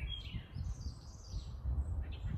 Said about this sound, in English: Sit back and enjoy the bird song